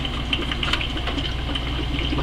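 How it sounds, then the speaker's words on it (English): Dual outlet air pump running for a bubble bucket hydroponic setup, a steady, close buzzing drone with faint bubbling and vibration throughout, no talking. "Let me plug in the pump and I'll show you how it works."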